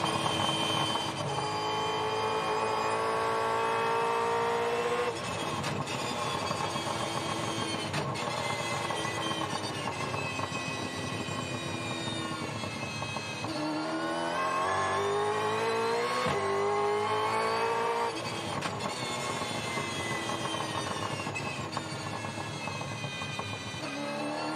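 Race car engine heard from an onboard camera, a loud, continuous mid-pitched drone that rises and falls as the throttle changes, with sweeping pitch shifts and no talking.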